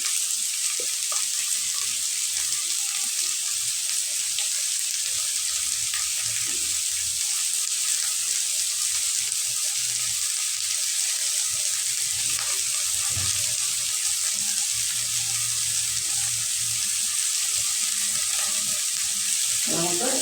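Chopped onions with a pinch of salt sizzle steadily in a pan, a continuous bright frying hiss with faint stirring scrapes, close by and without speech.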